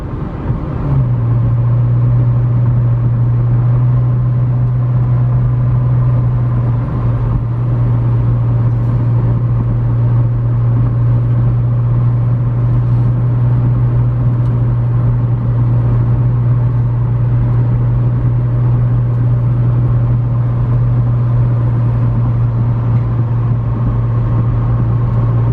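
A 2015 McLaren 650S Spyder, a repairable salvage car, cruises at highway speed with a steady, loud low drone of engine and road rumble running unbroken throughout, with no talking.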